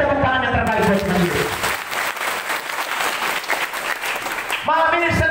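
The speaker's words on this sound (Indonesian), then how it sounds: "Berikan tepuk tangan yang terbaik buat Tuhan." A congregation at a church revival service in Lelogama breaks into sustained, loud applause. A preacher's voice is heard before and after the clapping.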